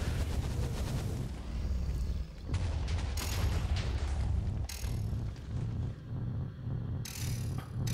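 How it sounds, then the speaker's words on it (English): The Chaos Guardian launches fireballs in the Minecraft FTB OceanBlock game, a loud, dense rumble of mechanical booms and blasts that surges and ebbs in several waves. "Now he's going to start shooting fireballs, and we have to get out of the way."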